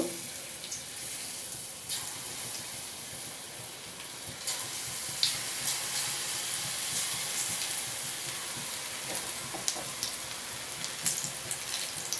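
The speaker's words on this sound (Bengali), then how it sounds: "নিয়ে এবার একটা একটা করে তেলের মধ্যে দিয়ে দেব।" Okra pieces coated in gram flour batter fry in hot oil, giving a steady, even sizzle throughout with a few small pops and no talking.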